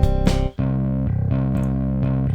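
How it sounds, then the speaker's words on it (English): Distortion effect in a home song demo gives a thick, buzzing, sustained electronic tone with a harmonic-rich drone and a short break before a steady pulsing riff resumes, loud and alone. "that's where the distortion comes in"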